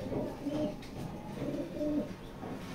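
Pigeons in a loft give soft, low cooing calls in two rolling phrases, close by and moderately loud against a muffled background.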